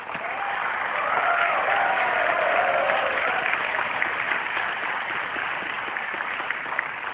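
Audience applause at an Indonesian presidential debate, a steady wash of clapping from a large crowd that swells early and then holds evenly throughout.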